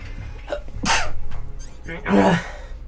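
A single person sneezes, a sharp bursting sneeze preceded by a short inhale and followed by a second explosive burst, close and loud.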